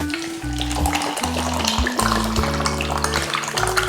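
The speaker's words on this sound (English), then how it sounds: "And then pour your drink in." Spiced hazelnut bubble tea is poured into a cup over ice and tapioca pearls, giving a steady splashing stream that runs throughout beneath loud background music.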